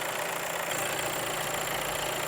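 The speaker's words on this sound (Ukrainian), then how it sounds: "Мотор працює рівно, але оце от трохи пищить" A steady 2.0 diesel engine idling in a Skoda Kodiaq, an even rumble and hiss with a faint high whine running throughout.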